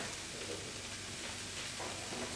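Leeks sweating in a pan of oil and a little butter give off a soft, steady sizzle. The crackle stays close and even throughout, with no voices over it.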